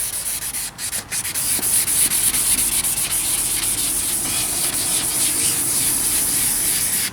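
A faded, fogged headlight lens being sanded with fine wet/dry sandpaper, finer than 600 grit: steady, close rasping strokes repeat continuously with no talking.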